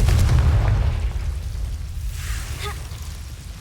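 Confringo fire spell explosion in the video game Hogwarts Legacy, a loud booming burst at the start that fades into a low rumbling tail.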